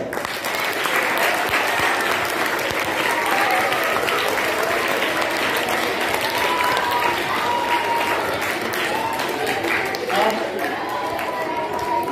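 A school audience applauds a teacher, a steady dense wash of many hands clapping at full strength for about twelve seconds, with scattered voices and faint cheers mixed in.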